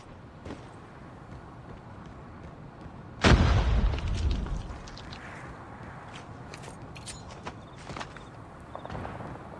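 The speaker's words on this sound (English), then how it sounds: "Grenade out!" A grenade blast in a military shooter game, a sudden loud boom that rolls off over about a second amid faint battlefield ambience and scattered clicks.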